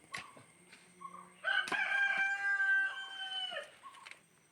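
A chicken calls nearby with a few short clucks, then a long, loud drawn-out crow, followed by more scattered clucking.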